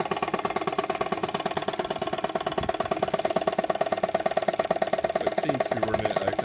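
A Motivair air compressor driven by a replacement 1-horsepower motor runs with a steady, rapid pulsing chug and a constant mechanical hum, close and continuous throughout.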